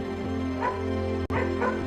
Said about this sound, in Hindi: बिल्लू भौंकने लगा